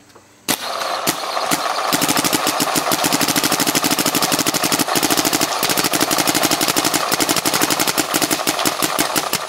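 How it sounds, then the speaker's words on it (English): A TMC Gator Matrix paintball marker fires a long, rapid, even string of shots after a few single pops, loud and close with no talking. "I want to shoot the TMC Gator Matrix."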